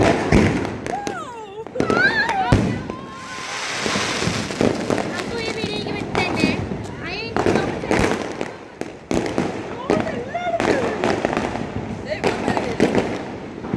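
Diwali firecrackers burst in Chennai in sharp, irregular cracks and bangs, some close and loud, mixed with excited voices talking and shouting throughout.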